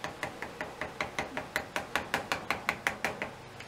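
A small quarter-inch wood chisel struck repeatedly to pare excess aluminum from a vise jaw corner: about eighteen quick, even taps in a steady rhythm, close and fairly quiet.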